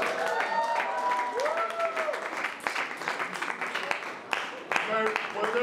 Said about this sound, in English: give one more round of applause to all 8 of our speakers this evening